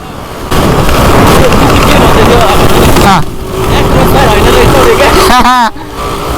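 A motorcycle passes during an off-road river ride. Loud roaring engine and wind noise fill most of the clip, with short drops and a rising whine near the end. Voices talk over it.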